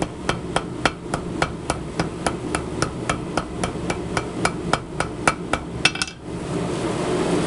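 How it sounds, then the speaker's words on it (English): A light hammer taps a metal weld bead about twenty times in a quick, even rhythm, then stops. "start with a light hammer. Tap, tap, tap."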